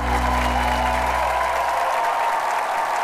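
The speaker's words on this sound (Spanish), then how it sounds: "El aplauso" Audience applause for a singer after a live performance on a TV show, a dense steady roar of many clapping hands with the lingering tail of music underneath at first, loud and continuous throughout.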